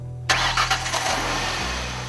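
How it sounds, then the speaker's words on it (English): A parked truck's engine cranks and catches in an open garage, a loud close start with a few sputtering bursts that settles into a steady idle hum. "The research team started a truck's engine while it was parked in an open garage."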